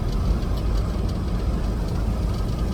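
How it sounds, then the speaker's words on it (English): A truck's engine drones steadily from inside the cab while driving toward Charlotte, North Carolina with a load. The low rumble is loud and continuous, with no break. "I'm in my truck."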